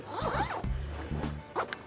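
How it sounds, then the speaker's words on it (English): Zipper pulled open along the storage bag of a Darche Cube awning shower tent, two or three quick rasping strokes up close with no talk. "First step, we're going to unzip"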